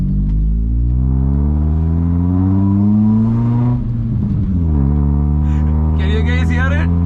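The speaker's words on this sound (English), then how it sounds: "Like these headers and the exhaust system is like absolutely amazing." Old Hyundai sedan fitted with headers and an upgraded exhaust, its loud deep droning rumble rising steadily in pitch as it accelerates, then dipping and settling back to a lower drone, with a voice talking briefly near the end.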